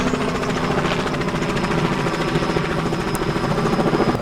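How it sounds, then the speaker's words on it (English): A constant rapid thudding drone of rotor blades from tour helicopters fills the clip at a car show in Branson, loud and unbroken, like a helicopter hovering close by. "Helicopter tours are going on in the background."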